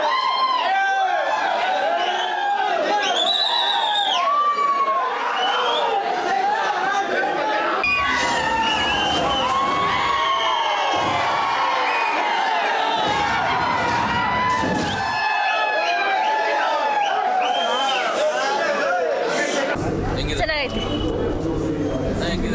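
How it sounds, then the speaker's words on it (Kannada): Crowds of film fans gathered outside a cinema for an early-morning fan show release cheer and shout continuously, a dense, loud roar of voices with whoops and chanting throughout. "ಚಿತ್ರಮಂದಿರಗಳ ಮುಂದೆ ಸೇರಿದ ಅಭಿಮಾನಿಗಳು ಜೈಕಾರ ಕೂಗಿ ಹರ್ಷವನ್ನ ವ್ಯಕ್ತಪಡಿಸಿದ್ರು"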